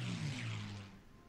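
A propeller plane drones briefly in the strategy game Hearts of Iron 4 as aircraft are moved, a short steady engine hum that fades at the end.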